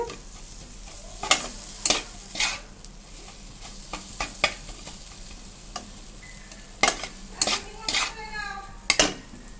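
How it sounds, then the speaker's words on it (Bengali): Onions and mixed spices stir-frying in a pan give a continuous low sizzle punctuated by repeated sharp metal spatula clanks and scrapes against the pan, close up, with no talking. "এবার আমি এটাকে আবার কষা কষা করব দেখো আমার সব রকম মশলা কিন্তু আমি কষাচ্ছি"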